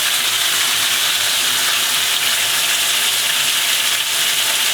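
Giant stone fish slices stir-frying with Beijing scallion over high heat in a wok, giving a loud, steady sizzle with a bright hiss that runs unbroken throughout.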